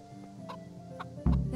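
Chickens in a farming video game give a few soft clucks and squawks close by, followed by a louder burst of clucking near the end.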